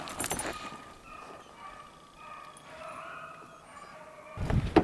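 A distant hound bays in drawn-out, wavering howls across a quiet outdoor setting while hunting hare, with handling noise bursts at the start and end.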